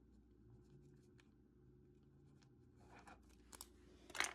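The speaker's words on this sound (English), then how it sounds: "I'm gonna write that down." Pen or pencil jotting a note on paper, faint scratchy strokes in a quiet room that build to a few sharper scribbles and taps at the end, no talking.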